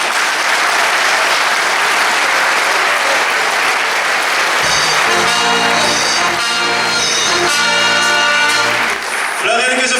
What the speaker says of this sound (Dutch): Geef ze een warm applaus.